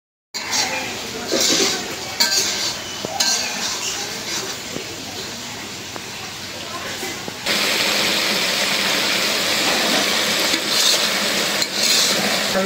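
Curry stir-fried in a pot over a wood-fire stove, a steady loud sizzle with scraping and stirring strokes that gets denser and louder partway through.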